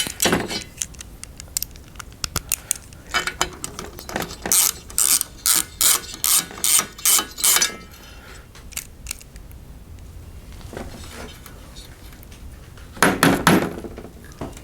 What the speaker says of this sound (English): Okay, so I'm just removing these nuts.